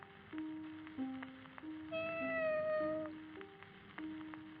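Cat meowing in a video game, a series of drawn-out tonal meows in succession with a longer, higher cry in the middle, clear and close over a faint ambient game background.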